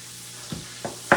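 A spoon stirs garlic in a hot pan. Three short scraping strokes come close together, each louder than the last, over a faint sizzle. No one speaks.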